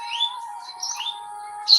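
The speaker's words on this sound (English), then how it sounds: "I can hear the sound of the bird then." Birds chirp outdoors in short, bright tweets, a few separate calls over about two seconds against a quiet, faint background hum, fairly close and clear.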